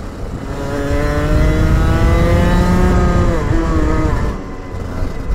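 A competition kart engine screams close by as it accelerates on a track, rising steadily in pitch with a buzzy rasp, then easing off near the end, with no talk.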